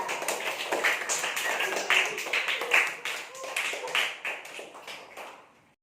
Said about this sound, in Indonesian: Beri tepuk tangan untuk Najwa